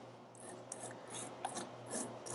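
A honeycomb frame being scraped after honey extraction, a faint close rasping and rubbing with short strokes at an irregular pace and no talk.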